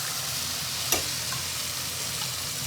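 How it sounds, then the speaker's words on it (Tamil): Vegetables with turmeric sautéing in a pan give a steady soft sizzle and frying hiss, with one brief clink partway through. "காய் நல்லா வதங்கட்டுங்க."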